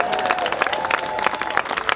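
An audience applauds hard at a knot-tying talk, trying to drown out a passing siren. The clapping is loud, dense and continuous, with a faint whistle-like tone running beneath it.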